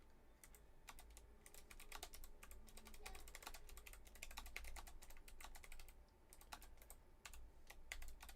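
Fast, uneven typing on a computer keyboard, quiet but close, with dense bursts of key clicks and brief pauses over a faint background hum.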